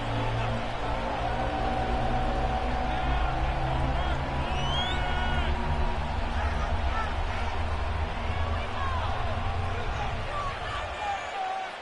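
A dense, steady roar from a 70,000-strong crowd of 49ers fans at Levi Stadium in Santa Clara, cheering in Madden '25. The wash of noise holds constant throughout, with a few whoops and shouts rising briefly above it.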